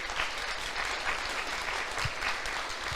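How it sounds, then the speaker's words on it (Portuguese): A church congregation claps for the Lord during a sermon, a steady, even wash of applause from a crowd that holds its level throughout. "Aplauda o Senhor então por isso."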